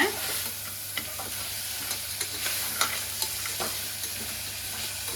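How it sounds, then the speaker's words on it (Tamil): Crab pieces fry in a pan for rasam, a steady bright sizzle filling the clip with faint stirring scrapes and small pops, close and continuous with no talking. "நண்டு ஃப்ரை ஆகிடுச்சிங்க."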